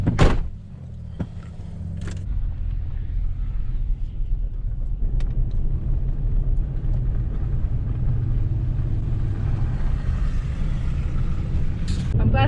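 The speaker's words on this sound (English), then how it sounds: "Ariel's gonna be driving the truck, and I'll be on the Polaris" Polaris utility vehicle and a truck driving slowly on a road while hauling a road-killed moose, with a steady low engine rumble throughout and a couple of brief clunks near the start and end.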